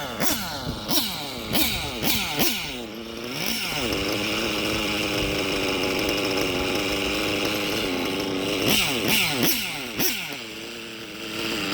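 A Traxxas nitro RC car with an STS D21B Dragon nitro engine runs laps. It gives a loud, buzzy high-revving whine that rises and falls in quick repeated bursts, then holds a steadier drone before revving sharply again.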